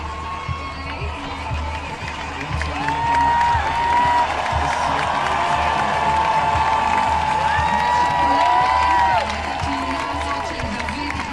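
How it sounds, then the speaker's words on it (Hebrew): A crowd gathered for a hostage release cheers and applauds, with sustained clapping and shouts that swell to a peak and then ease, while a voice talks over the noise. "הקהל כאן שוב הריע, הרבה מחיאות כפיים"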